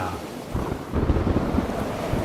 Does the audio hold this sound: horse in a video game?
no